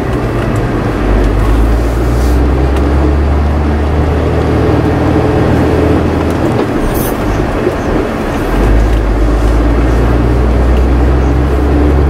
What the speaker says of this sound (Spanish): En marcha también podemos ver la activación del freno de motor.